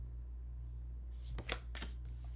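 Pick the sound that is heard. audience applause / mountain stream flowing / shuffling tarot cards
shuffling tarot cards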